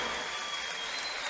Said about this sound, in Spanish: un fuerte aplauso para César Gutiérrez y Luis el Coreano Torres